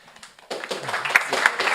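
A conference audience at a bioacoustics meeting breaks into applause. It starts suddenly and builds into dense, close clapping, with a few sharp individual claps standing out, after a moment of quiet murmuring.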